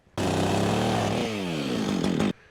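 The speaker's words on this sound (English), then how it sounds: "Should we cut it off with a chainsaw?" A chainsaw revs hard for about two seconds while cutting, loud and close, with a buzzing engine whine that dips and climbs before cutting off. The setting is Alaskan winter preparation, with no speech over the noise.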